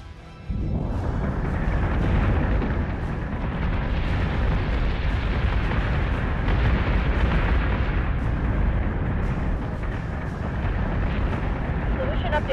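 Battlestar Galactica Deadlock fleet battle: ship weapons fire and explosions merge into a continuous, dense barrage of booms and rapid bursts, loud and sustained for over ten seconds after a brief quieter start.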